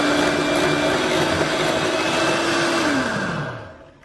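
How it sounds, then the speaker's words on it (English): Electric beaters whisk vanilla into a thick meringue for keto almond cookies, a loud, steady motor whir held close by before it winds down and stops at the end. "we'll whisk that in until it's smooth"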